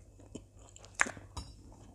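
Close, faint chewing on a bite of warm, buttered Estonian kringle pastry, a few soft crunching bites over quiet background hum.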